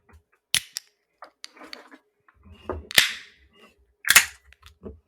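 A beer can cracks open in a few sharp metallic pops and hisses, close and loud against near silence, with soft handling clicks and rustles in between.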